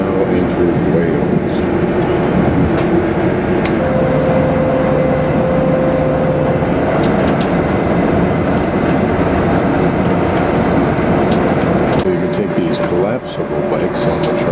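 Train running into Wales on the service to Cardiff Central: a steady, loud rumble of the moving carriage with a continuous low drone and a brief tonal whine, heard from on board throughout.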